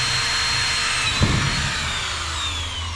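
A cheap power drill whines steadily as it labors through thin aluminum with an oversized bit, loud and close, with a brief grinding bump midway and no talking.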